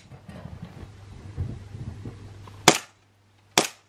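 An airsoft gun fires two sharp cracks about a second apart at Easter eggs outdoors, following a stretch of low rumbling wind noise.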